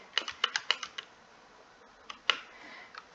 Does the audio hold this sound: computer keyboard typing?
yes